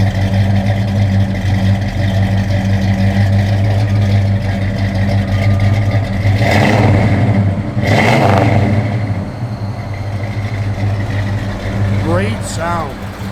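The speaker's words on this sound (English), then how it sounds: "Good sound, man." A 1971 Oldsmobile 442 V8 idling loud and close with a deep steady rumble, two brief revs rising in the middle, and a voice talking over it near the end.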